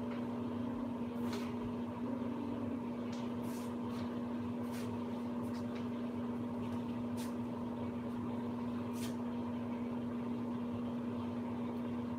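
A microwave oven reheating food for 30 seconds, a steady low hum with a constant whine running throughout, with faint clicks and rattles of the dish turning inside.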